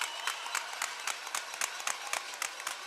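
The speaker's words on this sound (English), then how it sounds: "you can hear the fans cheering their teams and getting them riled up" Fans cheering and clapping in the stands at a ringette match in an arena rink, a steady bright crowd roar punctuated by sharp repeated claps throughout.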